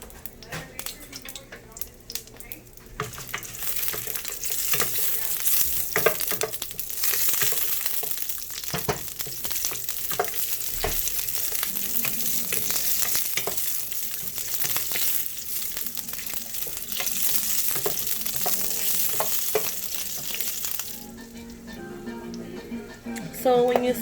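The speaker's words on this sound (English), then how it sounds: "So when you see that the chiles are already pretty fried like this, you're gonna go ahead and take them out." Chile colorado chiles fry in a hot pan with a loud, continuous sizzle and crackle, punctuated by stirring scrapes and clinks, while a voice talks intermittently over the cooking.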